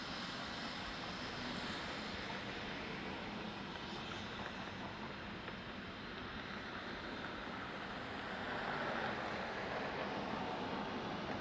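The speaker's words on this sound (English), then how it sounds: "That is a Pilatus PC-24." Pilatus PC-24 business jet at Dallas Love Field, a broad steady roar at moderate distance that swells slightly toward the end, no voices over it.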